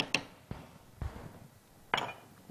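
Metal utensil clinking against a pot while rice cooks and is stirred, a few sharp separate knocks and scrapes spaced about half a second apart, close and moderately quiet.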